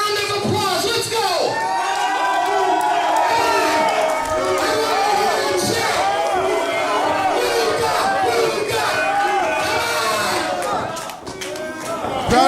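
An unhappy crowd at an independent wrestling show in East Stroudsburg jeers and shouts loudly and continuously, with scattered claps mixed into the roar of many voices.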